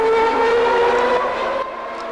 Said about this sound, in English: And there is Alain Prost, as an engine goes past, is sounding very rough indeed.